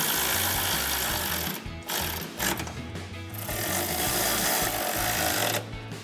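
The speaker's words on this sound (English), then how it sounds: "And then you're gonna take a 13mm socket to tighten both of these down." A 13mm socket on a power tool drives running board bracket bolts on a Silverado 1500, a loud, continuous rattling buzz close by with brief pauses, no talk.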